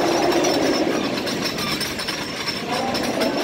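Blue Streak, the wooden roller coaster at Cedar Point amusement park, runs with a dense, continuous rumble and rattle of its train on the track. The sound is loud and sustained throughout.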